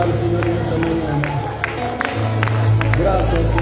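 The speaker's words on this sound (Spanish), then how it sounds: "Vamos a darle palmas de adoración al Señor en esta mañana." Church congregation at a Quechua worship service claps hands together in praise, a dense wash of clapping mixed with crowd voices and low background sound.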